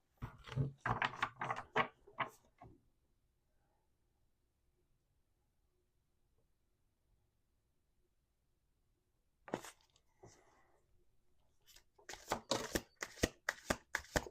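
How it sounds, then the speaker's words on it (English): Crisp riffling bursts of tarot cards being shuffled, a flurry at the start, then quiet, then more rapid shuffling bursts near the end, close by. "We're going to do 2 more shuffles."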